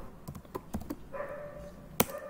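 Keys tapped on a computer keyboard during a Python coding session, a scatter of light clicks followed by one sharper, louder keystroke near the end like the enter key, close and quiet with no talk.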